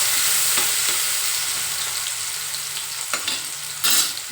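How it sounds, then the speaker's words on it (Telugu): Onions frying in a pan for a gongura recipe, a steady close sizzle throughout with a few stirring scrapes and a brief louder burst near the end, no talk. "ఉల్లిపాయలు వేస్తాను ఉల్లిపాయలు బాగా వేయాలి"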